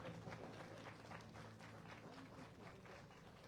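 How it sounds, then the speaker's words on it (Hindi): An audience at the Kashmir Heritage Festival in Srinagar applauds participants, a dense, continuous clatter of many hands from a crowd, steady and fairly distant throughout. "जोरदार तालियां इन सब के लिए"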